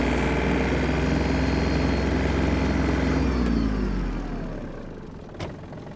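Yanmar RS-24 Japanese mini tractor engine droning loudly, then winding down and fading over the last few seconds to a quieter low rumble, with a brief knock near the end.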